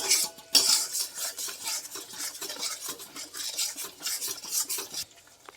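Spice masala being stir-fried in a pan for paneer pasanda, a steady close scrape and clatter of a spatula against metal with rhythmic stirring strokes and a faint sizzle, no talking.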